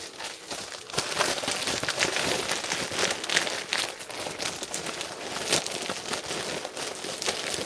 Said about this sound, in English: I would open them a little bit so that the air can escape. And I essentially just squeeze.